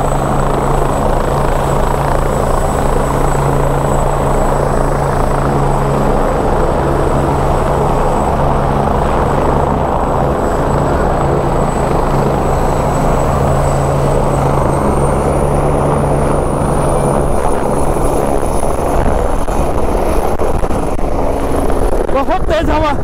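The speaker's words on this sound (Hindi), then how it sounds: "तो ये उड़ चुका है, ये उड़ने वाला है, और पीछे से 2 और हेलीकॉप्टर्स।" Pawan Hans helicopters lifting off and waiting at the Kedarnath helipad: a loud, steady rotor-and-turbine drone with a low throb and a high whine runs through the whole stretch, with voices talking underneath.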